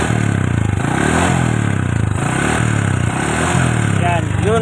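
A Honda XRM 125 motorcycle engine with a damaged connecting rod runs close by, a loud continuous rough rattling idle with clattering knocks, while someone talks over it.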